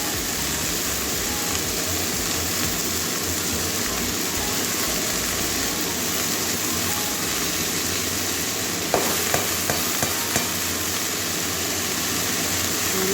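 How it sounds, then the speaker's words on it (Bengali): Potato and water spinach go into hot oil with fried onion and garlic, giving a steady loud sizzle throughout, with a few clinks of a utensil near the end. "এবারে ধুয়ে রাখা আলু আর কলমি শাকটা দিয়ে দেবো"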